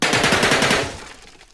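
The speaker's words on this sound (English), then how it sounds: "I like the sound of that MP40." MP40 submachine gun firing in a World War 2 turn-based tactics game, a short rapid burst of loud automatic shots that fades out within a second, no voices.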